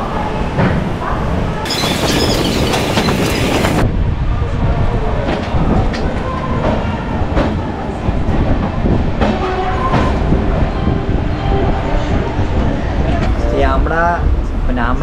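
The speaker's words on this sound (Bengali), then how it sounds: "চলুন এবার ট্রেনে উঠে পড়ার পালা।" Night train, Howrah to Ranchi sleeper service, rumbling steadily on the tracks with continuous rail noise and a brief bright screech early on, voices talking over it throughout.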